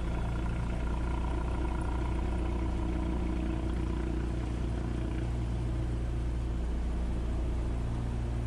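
A small airplane rolls down a runway during landing practice, its engine a steady, loud drone with constant rumble and cabin clatter throughout, heard from inside the cockpit without talking.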